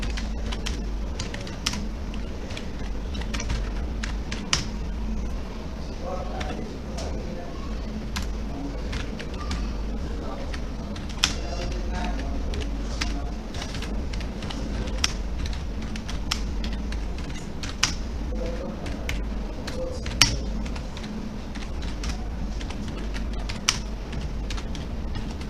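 Steady computer keyboard typing while an email is written, a continuous patter of key clicks with occasional louder taps, close and alone over a low room hum.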